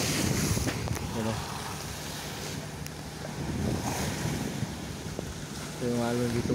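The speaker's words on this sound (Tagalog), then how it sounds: "Andito ako ngayon sa tabing dagat mga par. So malakas yung hangin ito" Strong wind buffets the microphone at a seashore at night while waves wash in steadily, forming a continuous loud roar with short tonal chirps in between.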